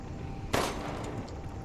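A single close gunshot fired in the video game Resident Evil Village, a sharp loud crack followed by a short decaying tail in an otherwise quiet scene.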